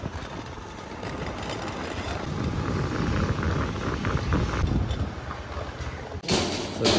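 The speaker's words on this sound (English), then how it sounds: "So for a change, a train journey to Belgaum." A passenger train on a journey to Belgaum rumbles steadily from inside, a continuous rolling drone with faint rattles and wind, growing slightly louder before a brief dip and a sharp burst of noise near the end.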